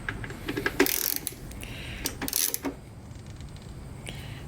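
A screwdriver turns a Phillips screw on a Yamaha Virago carburetor, giving a few short metallic clicks and ratcheting scrapes up close, followed by a quieter stretch.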